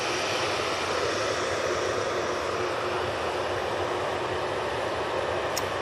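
An Ethiopian airliner arrives at Manchester Airport, its broadband engine roar steady and fairly distant throughout, without any speech.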